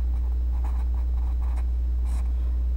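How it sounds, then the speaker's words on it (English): A pen scratches by hand across paper in short strokes and bursts, close and fairly quiet, over a steady low electrical hum. "write my multiples"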